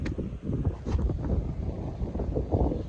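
Wind gusts buffet the microphone at a quiet, peaceful outdoor spot by a river, a low, uneven rumble that rises and falls in soft bursts with no talking.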